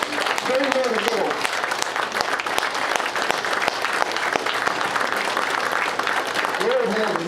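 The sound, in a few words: standing applause for Terry Supper at raceway banquet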